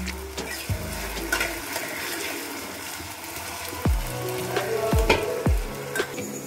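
Potatoes fry in a kadai over a flame for Maggi, a close, continuous sizzle broken by several scraping strokes as they are stirred, with no talking.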